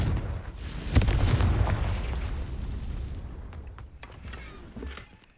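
A Confringo fire spell in Hogwarts Legacy goes off with a loud booming blast that swells and rumbles for several seconds, followed by fading crackles and debris.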